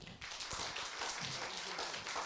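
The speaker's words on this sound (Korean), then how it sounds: "여러분 큰 환영의 박수 부탁드립니다." An audience at a humanities lecture on Hamlet applauding to welcome a professor to the podium, a brief burst of dense clapping at moderate distance.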